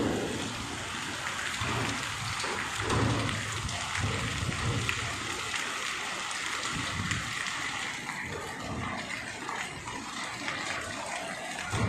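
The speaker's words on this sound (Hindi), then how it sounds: "इस वक्त बहुत तूफ़ानी बारिश और साथ ज़ालाबारी भी हो रही है।" Heavy stormy rain with hail in Chakwal, a dense, steady roar of pouring water and pelting stones, close and continuous throughout with no pauses.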